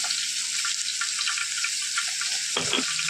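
Cumin seeds fry in hot oil for a greens stir-fry with a steady, close crackling sizzle, and a brief utensil clatter near the end.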